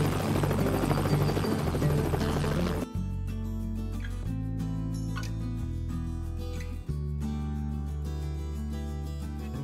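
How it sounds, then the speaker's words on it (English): A helicopter flies over an Australian cattle station at dawn for mustering, its steady, loud rotor and engine drone filling the whole stretch with no pause. "they fire up a helicopter."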